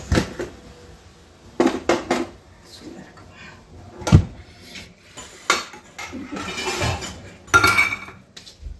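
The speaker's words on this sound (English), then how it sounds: "Now we just need to mix this with the kootu" Kali being mixed into kootu of tuvar dal and vegetables in a pot, heard as irregular clanks and scrapes of a spoon against metal, with quiet gaps between bursts.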